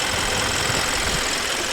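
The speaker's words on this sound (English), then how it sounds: "we're going to turn the car on" A car engine idles steadily close by, a continuous low rumble with a faint knocking texture and no voices over it.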